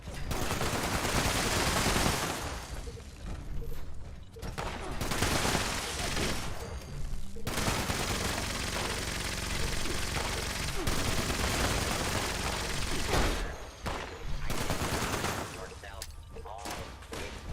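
Sustained loud gunfire from Fallout 76, with dense overlapping bursts and thuds filling nearly the whole stretch and only brief dips, while someone talks over parts of it.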